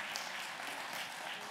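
A church congregation claps for the guest speaker's wife, a short, faint and even spell of applause from a distance.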